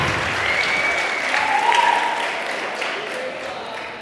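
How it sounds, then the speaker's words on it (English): Wedding guests clap for a couple's first dance in an evening reception hall. The applause is loud and sustained, with a few scattered cheers mixed in, and it starts to fade near the end. "let's have a nice big round of applause for Laura and Kevin celebrating their first dance"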